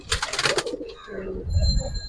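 Pigeons at a bird market give a short burst of soft, throaty cooing, a couple of rolling low calls close by, with a faint high tone in the background.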